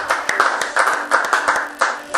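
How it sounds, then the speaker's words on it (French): Congregation clapping during a prayer service in church, sharp rhythmic claps in a steady beat with voices underneath. "Applaudissez pour la gloire de Dieu."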